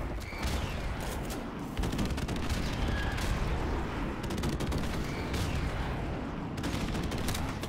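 Rapid gunfire in the Xbox One shooter Call of Duty Modern Warfare Remastered, dense bursts of automatic shots and booms packed close together throughout, with faint game chatter underneath.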